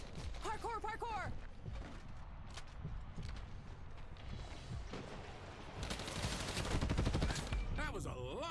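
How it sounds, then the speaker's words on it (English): Bursts of gunfire in the Combat Champions video game during a playtest, rapid shots and volleys rattling over game noise, with other effects and a few tonal sweeps around them. "That was a lot of bullets."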